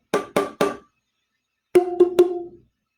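Three quick strikes on a tube, then three more giving a clear, higher ringing pitched tone, each hit short and bright with a brief decay, close and isolated.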